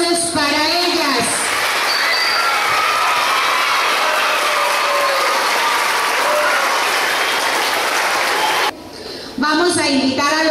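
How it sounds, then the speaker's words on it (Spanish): Applause from an audience at a school civic event, a dense sustained clatter of many hands clapping for several seconds, with a voice speaking over a PA briefly before and after. "Vamos a ofrecerles una lluvia de aplausos para ellas."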